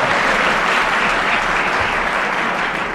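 Studio audience at a radio comedy panel game breaks into brisk, sustained applause, a dense wash of clapping that stays loud and full for a few seconds.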